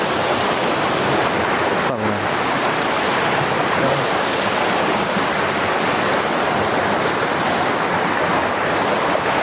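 Continuous rushing roar of a mountain waterfall on Gunung Salak, dense and steady throughout with no pauses, heard close up.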